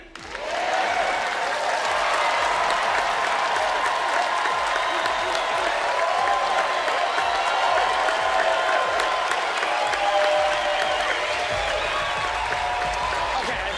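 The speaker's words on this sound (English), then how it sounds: "the louder everyone here claps and cheers, the more fuel we will add" A crowd claps and cheers loudly and continuously for over thirteen seconds, a dense wall of applause with shouts and whoops mixed in, sustained at full volume from start to finish.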